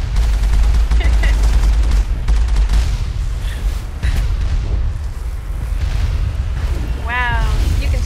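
Rockets fire repeatedly in the Mass Effect video game, loud booming blasts and bursts of gunfire-like impacts rolling over a dense low rumble, with a brief rising electronic whine near the end.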